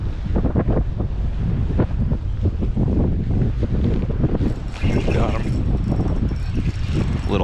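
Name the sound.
wind blowing on a lake while kayak fishing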